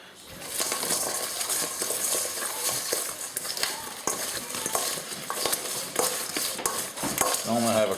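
Chicken wings are stirred in butter and lemon pepper seasoning, giving a steady close scraping and clinking with a soft sizzle underneath.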